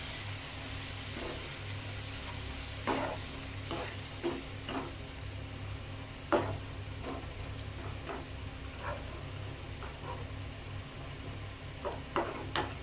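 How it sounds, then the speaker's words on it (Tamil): A masala curry simmers in a pan after water is added, a soft continuous bubbling hiss at low volume, punctuated by occasional light clicks and knocks of stirring or utensils. "இதில் ஒரு டம்ளர் அளவுக்கு நீங்கள் தண்ணி ஆட் பண்ணிவிட்டு நல்லா கொதிக்க விடுங்க."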